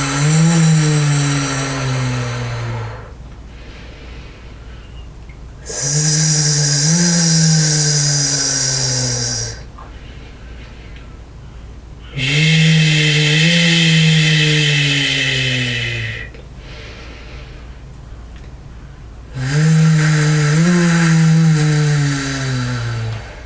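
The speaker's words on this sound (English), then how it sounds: "we're going to actively squeeze or pulse from the stomach, and it sounds like this" Voice exercise from the Accent Method for voice patients, with breath pulses squeezed from the diaphragm: a loud sustained voiced tone recurring in four long swells, each stretch carrying rhythmic rising accents, separated by quieter breathy gaps.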